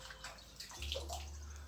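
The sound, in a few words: flushing paint sprayer parts with fresh water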